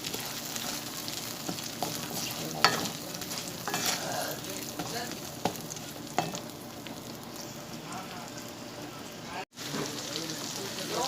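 Mango pieces simmer and are stirred in a pan for Bengali mango pickle, giving a continuous bubbling sizzle with intermittent spoon scrapes and clicks, heard close, with faint voice-like murmurs in the background.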